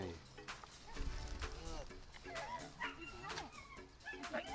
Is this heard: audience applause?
no